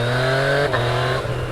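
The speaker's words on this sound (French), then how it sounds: "Oh là là, son de 3 cylindres." Yamaha MT-09 three-cylinder motorcycle engine revving loud and close, a steady sustained drone with a brief dip mid-way before holding high again, no voices.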